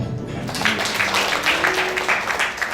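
A church congregation at a Thursday Ascension Day service claps together, a steady patter of many hands holding at a moderate level for a few seconds with no voices over it.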